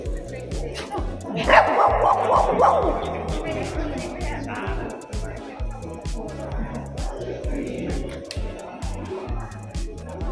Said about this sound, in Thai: เอาดีแล้วที่เห่าตอนนี้